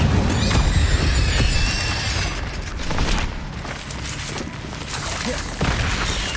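Incendio fire spell cast in Hogwarts Legacy, a loud whooshing burst of flame followed by crackling impacts and booms, with a voice calling out over the start.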